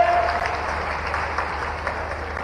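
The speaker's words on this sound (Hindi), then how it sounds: "ओलंपिक के लिए जोरदार ताली बजाओ।" Applause rises from a large audience at a public speech honouring Olympic athletes, a steady wash of clapping lasting the whole stretch with a low hum beneath.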